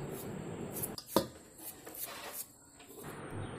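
Half of a large onion is chopped small with a knife in a home kitchen: a few scattered, close knocks and scrapes against a board, with nobody speaking.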